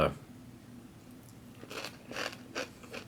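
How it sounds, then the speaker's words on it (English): Crisp crunching bites into a Chex Mix-style snack from a Halal Jalfrazi with Lamb MRE come in several close bursts, scattered and uneven, over a faint room hiss. "Everything's crunchy in this."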